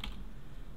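Brief, faint patter of keys on a computer keyboard as text is entered in an editing program, heard alone over a low background hiss.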